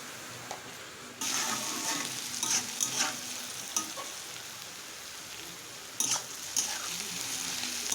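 Arum stalks with coconut are stirred in a pan over a low flame, a continuous frying sizzle with intermittent scraping and clinking strokes of a spoon against the pan.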